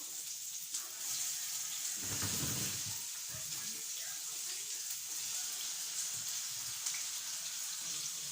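Onion goes into hot oil in an outdoor African-style catering setting, a steady sizzling hiss with a louder burst as it hits the pan, while a voice speaks in the background.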